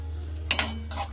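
Semolina being fried in a pan is stirred with a metal spoon, giving a couple of quick close scrapes and clinks over a low steady hum.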